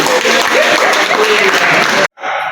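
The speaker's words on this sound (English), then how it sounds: "Can you clap for her again?" Dense audience clapping fills a library staff event, loud and continuous with voices talking over it, before cutting off abruptly near the end and briefly resuming.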